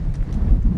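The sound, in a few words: strong wind blowing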